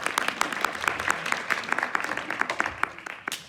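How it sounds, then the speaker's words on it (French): Audience at a neuroscience conference in Castries claps steadily for several seconds, a dense patter of hand claps with a few sharper individual claps standing out, fairly close and without talk over it. "On l'applaudit. Bravo!"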